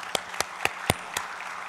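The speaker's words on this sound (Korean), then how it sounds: "다시 한번 큰 박수 부탁합니다." At a church forum lecture, a handful of separate, sharp hand claps ring out at uneven intervals in a quiet hall, sounding sparse and close rather than like full applause.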